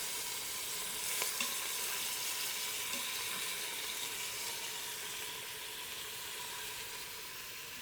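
Korean beef fries in oil in a pan, giving a steady soft sizzle and hiss throughout with no talking.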